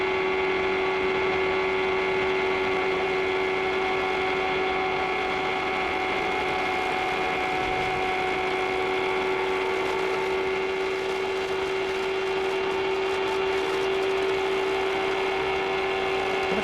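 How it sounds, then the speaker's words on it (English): A 2003 Champ Car race car engine in Germany, Round 5, holding a steady high-pitched tonal drone through a corner, continuous and fairly loud with a slight shift in its note, no voices. "Heard the engine note change just slightly in that corner."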